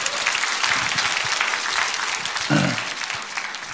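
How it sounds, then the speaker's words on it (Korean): An audience applauds to welcome Dr. Lee Chung-geun, a steady, close burst of many hands clapping that holds throughout with a brief low thump partway through. "박수로 모시겠습니다."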